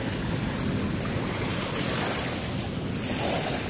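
Waves wash and crash steadily against the Manila Bay shore, a constant broad roar of surf mixed with gusting wind buffeting the microphone, loud and close with no voices.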